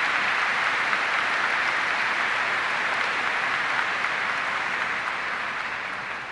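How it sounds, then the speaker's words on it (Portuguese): A church congregation at a Mass in Belém claps together in sustained, even applause that holds steady and then tapers slightly at the end. "Vamos dar uma salva de palmas para todos nós."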